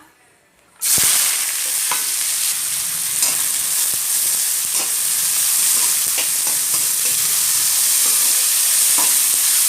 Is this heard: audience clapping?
no